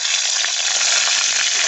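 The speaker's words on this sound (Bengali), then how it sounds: "এই যে আমি গোটা গরম মশলা কড়াইতে দিলাম" Whole garam masala hits hot oil in a wok, giving a loud, steady, close sizzle that fills the whole moment with no voices.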